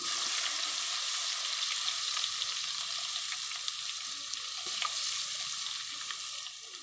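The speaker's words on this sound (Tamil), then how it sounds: "கடுகு நல்லா பொரிஞ்சிட்ருக்கு." Mustard seeds spluttering in hot oil for a village-style dry fish curry, a steady bright sizzle with scattered sharp pops running throughout and easing slightly at the end.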